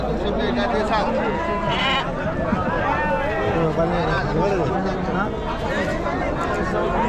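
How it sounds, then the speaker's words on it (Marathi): Sheep bleat repeatedly amid a busy crowd at a large goat and sheep market in Chakan, Maharashtra, with people chattering and talking nearby throughout. "मेंढ्या सुद्धा भरपूर आहेत"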